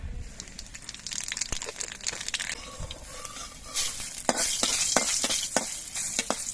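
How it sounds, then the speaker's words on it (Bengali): Black cumin seeds and a dried red chili broken in two sizzle in hot oil in a kadai, a crackling hiss under scattered sharp pops and scrapes that rises louder toward the end. "কালো জিরে আর শুকনো লঙ্কাটা ভাজা হয়ে যাওয়ার পর"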